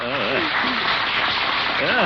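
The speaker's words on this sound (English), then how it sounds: "They were applauding the band." A studio audience applauds the band during a 1949 Great Gildersleeve radio comedy broadcast. The clapping is a steady, dense wash of hands, and voices speak briefly over it at the start and end.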